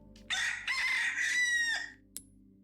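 A loud rooster crow in the Resident Evil 4 video game rings out in a long, drawn-out cock-a-doodle-doo, followed by a brief click, with a steady low hum underneath.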